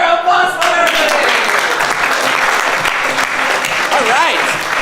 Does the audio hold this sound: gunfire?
no